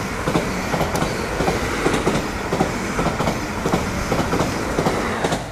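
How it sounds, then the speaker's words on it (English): A Greater Anglia class 317 electric train runs past on the rails at a station near Stansted Airport. Steady clickety-clack wheel beats sound close and continuous throughout, with no talking. "Next up, 1 Bravo 31 from Stansted Airport to London Liverpool Street."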